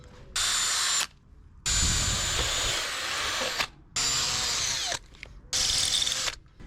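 Power drill boring holes into a rusty sailboat keel, four separate bursts of loud, high whirring, each lasting one to two seconds with brief quiet gaps between them.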